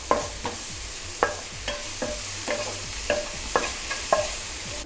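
Chopped onions sautéing with a little salt over medium heat in a pan, a soft steady sizzle close up, punctuated by a regular series of light spatula scrapes and taps.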